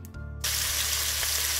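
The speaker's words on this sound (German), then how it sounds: "In einer tiefen Pfanne habe ich nun das Rapsöl erhitzt. Da rein gebe ich nun unsere Hähnchenbrust." Chicken breast dropped into hot rapeseed oil in a deep pan, bursting into a loud, constant frying sizzle after a brief quieter moment, with no talking.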